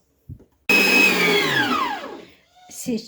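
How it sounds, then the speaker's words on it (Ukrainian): An electric mixer whips apple puree for egg-free apple marshmallow, starting abruptly with a loud whirring whine that slowly drops in pitch and fades, followed by a short burst of a voice. "Вмикаю, частинами додаю цукор і збиваю таку пишну масу."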